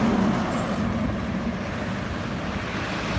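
Heavy trucks and trailers pass along a main highway on the outskirts of Bambang, a steady broad roar of traffic with a low engine drone, no voices heard.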